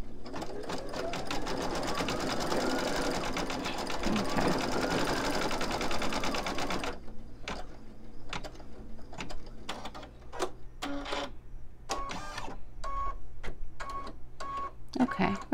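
An embroidery machine stitches a design with rapid, steady mechanical clatter, first dense and continuous, then breaking into a slower series of distinct needle strokes and pauses.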